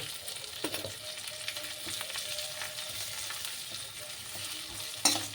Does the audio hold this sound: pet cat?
no